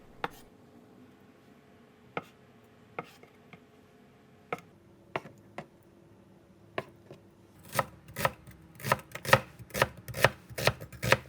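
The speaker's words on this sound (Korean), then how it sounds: "어묵, 두부, 양파도 먹기 좋은 크기로 잘라서" A knife chops fish cake, tofu and onion into bite-size pieces on a cutting board, starting with sparse, quiet single taps and speeding into a quick run of louder, sharper chops.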